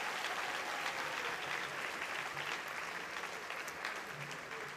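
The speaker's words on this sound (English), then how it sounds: "Let's give them another round of applause." A graduation crowd applauds the graduate's parents: broad, even clapping from a large audience, fairly distant and low in level, continuing steadily and tapering slightly toward the end.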